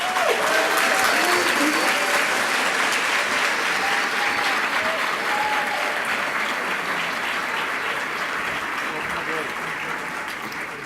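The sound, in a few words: applause at medical school white coat ceremony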